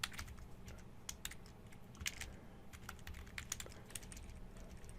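Someone types quickly on a computer keyboard while writing code, producing a dense, close run of light clicking keystrokes with occasional sharper taps and no talking.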